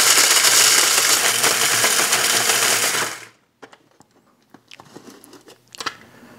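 A grinder runs loud and steady on dried beef liver for about three seconds, then stops, followed by faint scattered taps and rattles of the pieces.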